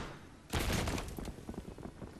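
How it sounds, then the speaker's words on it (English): A sudden loud explosion bursts out, followed by a rumbling crackle of gunfire and blasts from Battlefield 3 in Rush mode. "Random explosions, uh, again, I, I don't know where all these are coming from."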